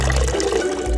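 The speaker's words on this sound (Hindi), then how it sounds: "आपके कपड़े में पानी कैसे गिर रहा है?" Water splashes and pours steadily from a burst water balloon onto clothing, a loud, continuous close-up gush with no voices.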